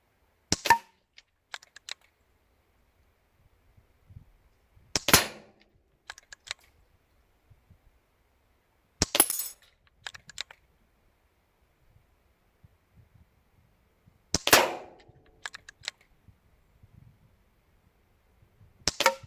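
BSA Ultra CLX air rifle firing at targets around 22 meters outdoors, four sharp isolated shot cracks spaced several seconds apart with quiet gaps and faint background between.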